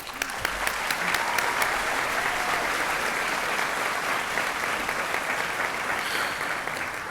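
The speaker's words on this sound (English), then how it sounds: "First round of applause." A large crowd applauds steadily at a spring commencement ceremony for communication graduates, a dense, continuous wash of clapping that holds its level for several seconds and sounds hall-like.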